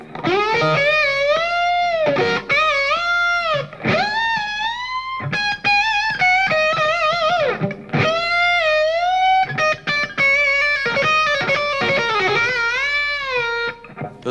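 A loud, distorted electric guitar plays a solo, its notes repeatedly bending up and sliding back down in pitch.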